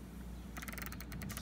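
Whirlpool Cabrio washing machine mechanism, with a low steady hum that breaks after about half a second into a fast run of ratchet-like clicks and ticks, close and fairly loud, with no talking.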